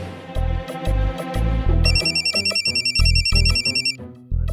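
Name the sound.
phone ringtone ringing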